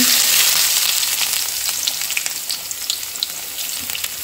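Two medium onions frying in a pan, a close, bright crackling sizzle that starts strong and settles slightly quieter, with small pops scattered throughout.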